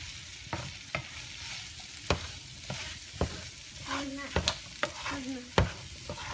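Red chili thickened with flour cooks down in a pan for New Mexico style chili con carne, giving a soft sizzle under a series of irregular stirring scrapes and spoon knocks, fairly quiet, with no talking.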